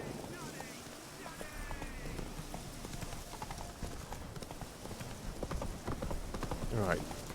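Roach, a horse in The Witcher 3, clip-clops along with steady hoofbeats under continuous game ambience, with a voice talking briefly near the end.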